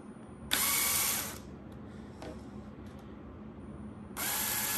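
A power drill drives a self-tapping screw, two loud whirring runs of the motor close by, separated by a quieter pause with a faint click.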